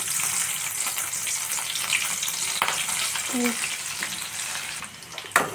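Onions sizzling as they hit hot oil in a kadai, a steady dense frying hiss running throughout with a couple of brief clinks near the end.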